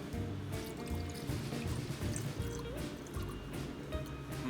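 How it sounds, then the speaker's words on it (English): Rye whiskey is poured into a glass, a close liquid trickle and gurgle with dripping, heard under a faint room background. "That's a tiki pour right there, Mary."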